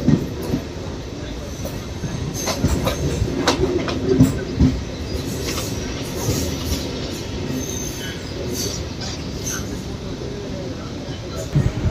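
Coimbatore–Erode MEMU train travelling, heard from inside a coach: steady rumbling wheel and carriage noise with rattles, clicks and faint squeals, while someone talks throughout.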